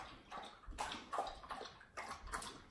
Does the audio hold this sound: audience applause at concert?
no